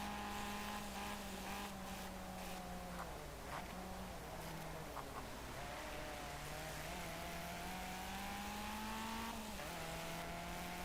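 A Caterham race car in Project Cars drones steadily at the Snetterton circuit, engine tone rising and falling as the car brakes and accelerates, with light tyre noise and no talk.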